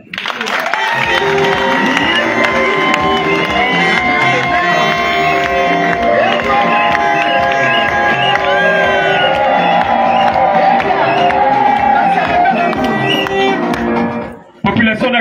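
A large crowd at a political campaign meeting in Akébé cheers, applauds and whoops loudly and continuously for about fourteen seconds, then cuts off sharply near the end.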